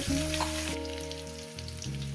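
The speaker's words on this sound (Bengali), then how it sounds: "কচু আলু থেকে মিনিমাম সাত থেকে আট মিনিট লবণ আছে হলুদ আছে সব কিছু আছে এইভাবে ভাজতে থাকবে" Taro and potato pieces seasoned with salt and turmeric fry in a pan on medium heat, giving a loud, close, continuous sizzle with some stirring. Steady tonal hum sits underneath, and no voices are present.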